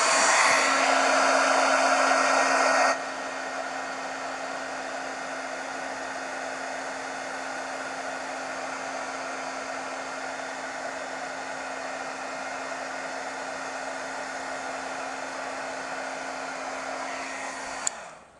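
Hair dryer blowing on a watercolour painting, a steady loud whirring hum that drops to a lower setting after about three seconds and runs alone until it cuts off at the end.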